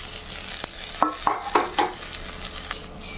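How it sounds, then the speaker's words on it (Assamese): Black cumin seeds spluttering in hot oil in a home kitchen, a broad close sizzle with several sharp crackling pops clustered in the middle, then fainter scattered spits; no voices. "ব্লেক জিৰা ফুটিবলৈ দিওঁ"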